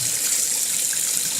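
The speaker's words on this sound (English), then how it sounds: "I'm going to fill this thing up now with warm water" Warm tap water gushes steadily into a carpet cleaner's tank, a close, continuous rushing splash with no talking.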